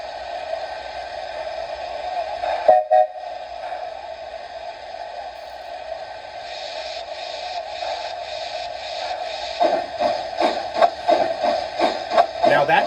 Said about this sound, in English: that chuff you hear is the accurate chuff for Walter E. Disney